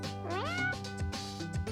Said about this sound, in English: Okay, I hear the cat.